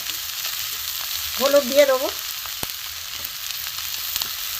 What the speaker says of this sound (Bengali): সব জিনিস ভাজা হচ্ছে, সবজি, চাল ডাল খিচুড়ির জন্য